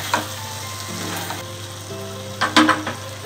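Pumpkin sabji with softened tomatoes frying in a pan, with a steady close sizzle and a few louder scraping stirs near the end, quiet background music beneath and no speech.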